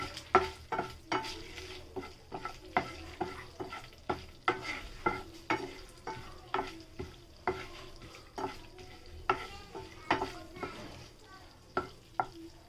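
Whole spices (cinnamon, star anise, cardamom, cloves and bay leaf) frying in hot oil for paneer butter masala, a steady soft sizzle broken by repeated sharp stirring scrapes and taps in a regular rhythm, close and clear.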